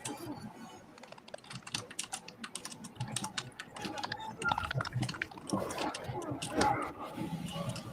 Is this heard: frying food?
no